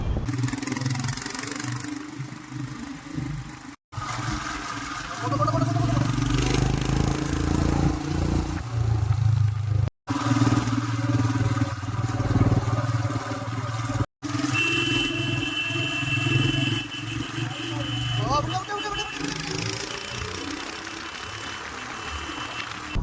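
A marshal's motorcycle engine runs steadily through rural roads during a bicycle challenge event in Wayanad, with a continuous low rumble and clatter, close and loud throughout, with wind noise and no talk.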